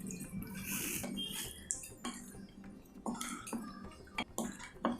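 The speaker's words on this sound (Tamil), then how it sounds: "ஒரு 1/2 கப் தண்ணி விட்டுடலாம்." Half a cup of water poured into paneer butter masala in a pan, a steady splashing pour for a couple of seconds followed by a few clinks and small splashes of a utensil against the pan.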